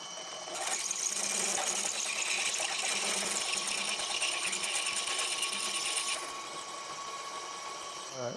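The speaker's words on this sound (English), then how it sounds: "I've put the plug in from the rear, so the drill is pulling it in" A drill running on a milling machine pulls a plug into a Quorn Mk3 tool grinder base casting, giving a steady mechanical whir with faint ratcheting for about five seconds before dropping to a quieter hum.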